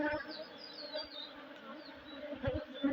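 Honey bees buzzing close by during a hive inspection, a fluttering, wavering drone with shifting pitch, and a person's voice faintly mixed in.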